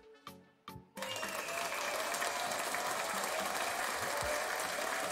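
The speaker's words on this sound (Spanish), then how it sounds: "¡Venga, el aplauso! Gracias, el aplauso." Two short tones are followed by a sudden swell of steady crowd applause that carries on evenly to the end at a moderate distance.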